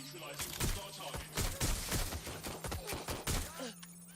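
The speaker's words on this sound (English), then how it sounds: "I'm taking fire!" Watch Dogs Legion gunfight, a steady run of rapid gunshots at fairly low volume, repeated bursts over a constant background hum.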